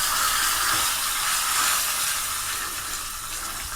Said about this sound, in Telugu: అదిగోండి తాలింపు ఎగిపోయింది కదా.